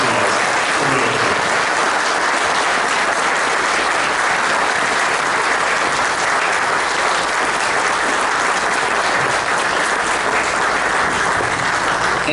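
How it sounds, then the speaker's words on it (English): Loud, dense audience applause for actress Veronica Carlson at a horror fan convention, continuous and undiminished for over twelve seconds with faint crowd murmur beneath. "can we please hear a good applause, wonderful applause, a monster mass applause for Veronica"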